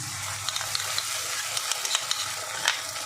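A ground paste of cashews and melon seeds fries with spices in oil in a pan, giving a constant sizzle broken by soft, irregular stirring clicks; no speech.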